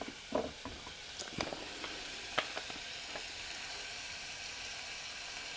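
Tomatoes with salt and pepper sizzle in a pan for Shirazi polo, a steady quiet fry with a few sharp pops and crackles near the start, no voices.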